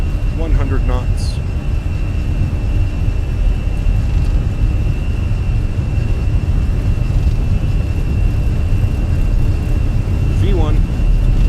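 An Airbus airliner's engines run at takeoff power in Microsoft Flight Simulator, a steady loud broadband roar with a faint whine. Brief cockpit voices sound at the start and near the end.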